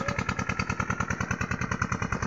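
A parked tractor's engine runs beside a mustard field during irrigation, its steady rapid chugging pulse close and continuous, with no talk.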